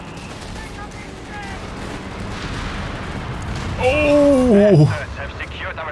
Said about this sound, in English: Took a satchel and a dive bomb back to back